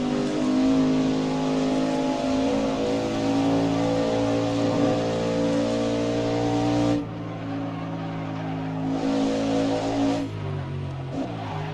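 Race car engine in Assetto Corsa at the Riverside 200, revving hard and accelerating onto a straight, loud and continuous with a dense, steady harmonic roar and a brief gear-change dip partway through.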